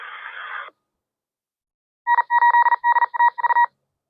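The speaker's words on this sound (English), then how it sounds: "as you heard, there's a lot of static there" A Baofeng UV17 Pro handheld radio fitted with a Comet HT-224 tri-band antenna gives a short, steady hiss of static, then falls silent before a quick run of clipped electronic beeps.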